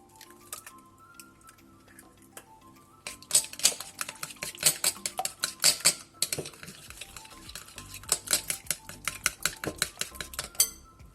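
A utensil rapidly clinks and scrapes against a mug while cheesecake batter of sugar, egg and vanilla is mixed. The stirring is quiet at first, then becomes a fast, steady run of close taps.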